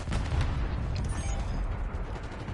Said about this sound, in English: Ah, so many explosions.